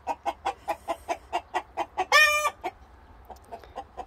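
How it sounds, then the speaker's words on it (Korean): Chickens on a backyard vegetable-garden farm cluck in a steady, rapid series of close pulses, broken by a brief loud rooster crow midway, then quieter clucks resume. "와, 닭 울음소리 정말 오랜만에 들어요."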